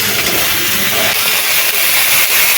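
Cut potato, eggplant and leafy greens go into a hot frying pan of oil, a loud, close steady sizzling hiss that continues throughout.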